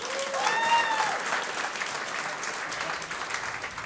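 A live comedy audience claps on request, a sustained even burst of applause filling the room for several seconds, with faint voices and a brief tonal sound at the start.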